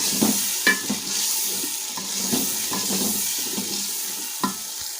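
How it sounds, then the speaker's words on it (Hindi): Chopped green garlic sizzling in frying masala in a pan, a steady hiss and crackle with repeated clicks and scrapes of a spoon stirring, close up, no talking. "और मैं इसमें कटा हुआ जो हरा लहसुन था वो भी डाल दूंगी।"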